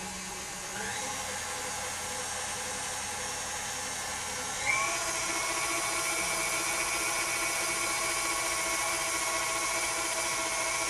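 Electric hand mixer whirring steadily through lemon bar batter with flour, a constant close high-pitched motor drone that rises slightly in pitch and loudness partway through, with no talking.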